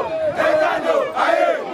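A huge crowd roars and chants at a political rally, a dense mass of voices rising in two loud surging waves over about two seconds.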